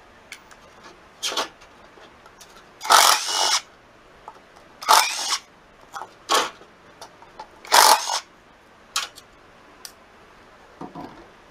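A power tool drives out the screws holding a motorcycle stator coil, giving about half a dozen short, close whirring bursts separated by quiet pauses, with faint clicks and rubbing between them.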